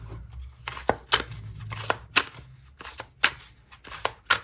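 Someone shuffles an Infernos and Icicles Romance Oracle card deck: a run of crisp riffling bursts about once a second, close and fairly quiet, with no voices.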